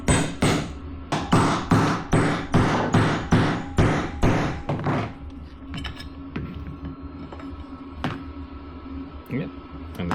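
Metal tapping drives a bearing into place on a Laverda 500 rear brake lever, using a bearing puller as a driver: about a dozen sharp, close hammer-like knocks in a steady rhythm, then a few scattered fainter taps.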